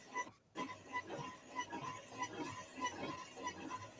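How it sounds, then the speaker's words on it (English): Frogs croak at night in a quiet, faint chorus of repeated rhythmic calls, with a soft insect-like background and no talk. "Crickets, cicadas, frogs, all doing their thing at night."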